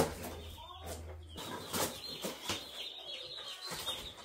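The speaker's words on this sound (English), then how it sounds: "It's gonna be a little loud to talk over all these chickens in here" A box of newly shipped baby chicks peeps in a busy chorus of overlapping chirps and cheeps, close and lively, with rustling and a few muffled thumps as the box is handled.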